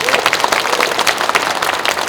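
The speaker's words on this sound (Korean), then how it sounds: "최문순 지사님을 향해서 박수 한번 좀 부탁드립니다." An audience at a special lecture event claps loudly and close by, a brief burst of dense, even applause filling the short moment.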